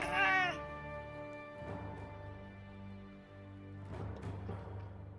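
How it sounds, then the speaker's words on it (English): A cartoon cat meows in the King's Quest III video game: one sharp, bright meow at the start, then quieter synthesized game tones and faint background sound with no talking. "That's a cat."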